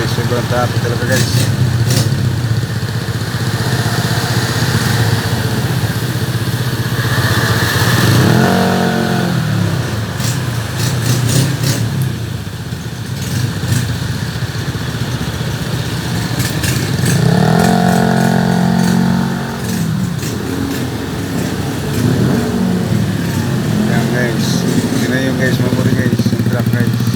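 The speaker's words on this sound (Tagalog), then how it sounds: "Guys, sobrang traffic talaga guys." Heavy road traffic of motorcycles and cars, engines droning and revving up close in a continuous rumble, with someone talking over the noise.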